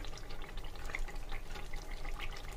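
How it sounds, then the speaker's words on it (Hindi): Water being poured into a pan of egg masala gravy, a steady close splashing and trickling that runs evenly throughout with no voices. "और अब मैं इसके साथ इसके अंदर बस थोड़ा सा पानी ऐड कर दूंगा"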